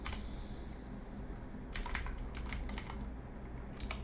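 Keys clatter on a computer keyboard while entering commands in R, a short quiet pause followed by a handful of close, crisp keystrokes, including a Ctrl+Enter press, with no talking over them.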